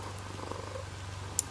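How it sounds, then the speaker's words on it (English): A cat purrs in a low, continuous rumble close by, steady and fairly soft, with a brief faint rustle near the end and no talking. "if you can hear purring,"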